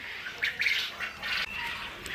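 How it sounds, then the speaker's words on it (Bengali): Quail chicks calling in thin, high repeated chirps over steady background noise, several short peeps bunched together across the clip. "যে কোনো বয়সীর কোয়েল পাখির বাচ্চা নিতে পারবেন"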